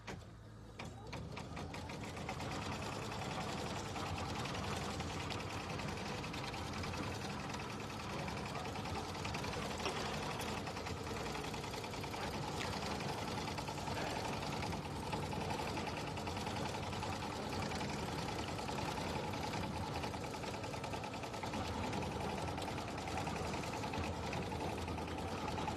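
A sewing machine stitches pebble quilting on a mini quilt, running in a steady, continuous mechanical whir with no pauses for over twenty seconds, close and fairly loud.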